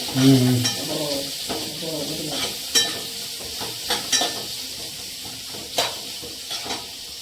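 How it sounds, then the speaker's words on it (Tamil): Onions frying in a pan until golden, a steady sizzle with repeated stirring and scraping strokes and occasional clinks of a utensil against the pot, close and moderately loud. "வெங்காயத்தை முதலில் பொன்னிறமாக வணக்கவும்"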